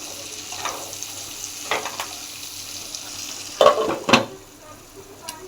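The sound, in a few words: stirring frying onions with turmeric in a pan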